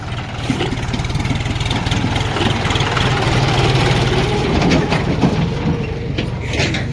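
A tractor on a rural farm road passes close by. Its loud diesel engine throbs in a steady low rhythm that rises slightly as it goes past, and no voices are heard.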